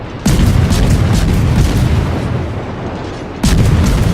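Battleship main guns firing in World of Warships, two heavy booming salvos about three seconds apart, each with a deep rumbling tail, loud and close.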